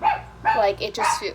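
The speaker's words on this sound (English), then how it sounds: "sorry if you hear my dog barking right now" A dog barks and yips in short bursts indoors, close and fairly loud, mixed in with a person talking over it.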